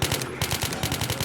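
Rapid automatic gunfire in the Roblox game All of Us Are Dead, a fast steady burst of repeated shots at close range, loud and continuous for just over a second with no talk.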